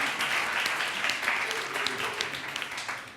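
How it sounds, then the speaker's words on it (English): A conference crowd applauding a venture capital speaker as she is welcomed to the stage, a loud, continuous clatter of many clapping hands that thins slightly toward the end, with a little speech mixed in. "Also, a big applause for Maria, please."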